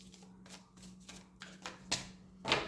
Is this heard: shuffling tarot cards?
yes